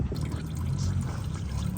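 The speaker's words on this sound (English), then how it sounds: "oil's just about finished draining" Engine oil draining from the oil pan of a 2013 Ford Edge 2.0L, a soft continuous trickle and pour of liquid, faint and steady throughout with no voices.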